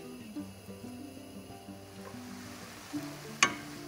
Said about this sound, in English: Keep stirring the tomatoes when you are cooking them.